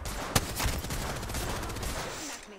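Automatic gun firing in the video game Apex Legends: a short burst of rapid, steady shots at moderate loudness with one sharper crack near the start, fading toward the end.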